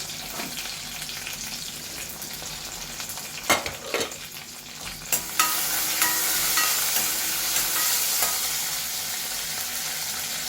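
Small shallots and whole dried red chilies hit hot oil in a pan, with a few sharp clatters as they drop in, then a loud, continuous sizzle that rises and holds steady.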